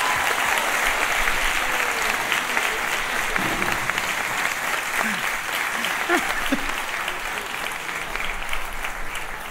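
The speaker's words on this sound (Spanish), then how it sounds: "el aplauso para Zaira y para Isaac" A comedy show audience in Monterrey gives a long, steady round of applause for Zaira and Isaac, dense clapping with a few voices faintly audible underneath.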